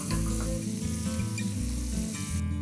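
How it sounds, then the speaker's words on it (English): Sliced onions sizzling as they cook in a pan: a steady, close crackling fry with occasional pops and stirring scrapes, continuous throughout and with no talk. "we're gonna add some sliced onions. Probably put these in here, probably cook them for maybe 3 minutes."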